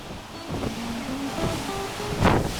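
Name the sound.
ocean waves of the Strait of Juan de Fuca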